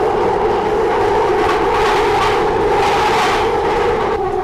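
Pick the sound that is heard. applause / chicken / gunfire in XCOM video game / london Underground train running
london Underground train running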